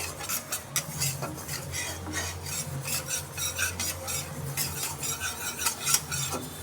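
Dry sesame seeds stirred and scraped in a hot pan, a steady close rasping and gritty scratching with frequent sharp utensil strokes against the metal, no voices.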